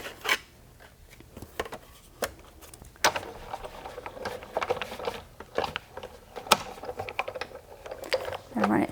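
Pop-up card paper is fed through a die-cutting machine, giving a run of irregular clicks, rasps and rubbing crunches that grow busier midway, with a person talking intermittently.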